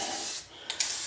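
Spray can applying a Tough as Tile spray-on coating, a close continuous hiss broken by a brief pause and short bursts of spraying.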